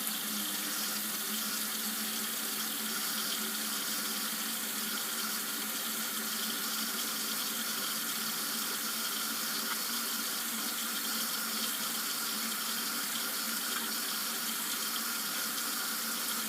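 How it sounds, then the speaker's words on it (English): Hot water runs steadily from a sink tap, a continuous bright hissing splash that stays even and close with no pauses or voices. "You want to get your water, let it start running."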